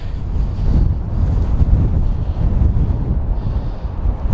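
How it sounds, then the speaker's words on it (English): Strong gusting wind on an open seaside harbour quay buffets the microphone in a continuous loud low rumble, with faint surf behind it and no talking. "it's super blowy down here. I'm trying to keep the wind off the mic."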